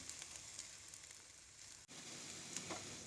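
Pieces of arbi (taro root) fry in hot oil, giving a steady close sizzle with soft crackles and one brief dip partway through, and no voices.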